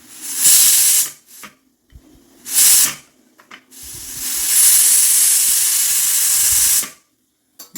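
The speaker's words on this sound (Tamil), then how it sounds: "இப்போ நம்மளோட ப்ரெஷரை வந்து ரிலீஸ் பண்ணியாச்சு" A pressure cooker with spinach inside releases steam in loud, close hissing bursts: two short blasts, a few brief puffs, then a long sustained hiss that stops abruptly.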